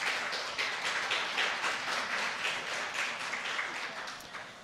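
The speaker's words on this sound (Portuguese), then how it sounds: "Eu gostaria que nós saudássemos a professora com uma salva de palmas." An audience at a theology lecture event gives a professor a round of applause: steady, dense clapping from many hands filling the room, continuous and moderately loud, tapering slightly at the end.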